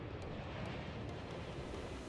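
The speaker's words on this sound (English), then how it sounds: "but with planes taking off and landing" Steady broadband jet roar of airliners taking off and landing at Zurich airport, a continuous distant rumble with no pauses and no talking.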